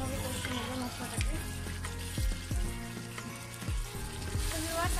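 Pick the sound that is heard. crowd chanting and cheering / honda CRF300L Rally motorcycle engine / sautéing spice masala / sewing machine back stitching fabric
sautéing spice masala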